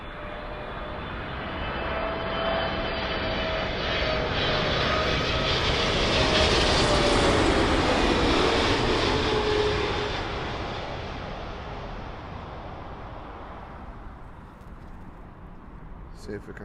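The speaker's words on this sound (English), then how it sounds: "the first one on the left is a JetBlue A321neo from JFK" A JetBlue Airbus A321neo arriving from JFK lands on runway 27L at London Heathrow, its engine roar swelling as it approaches, peaking loudly near the middle, then fading away over about sixteen seconds.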